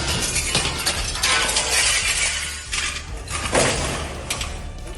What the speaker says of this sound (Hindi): पहले प्रिंसिपल ऑफिस के गेट का कांच तोड़ा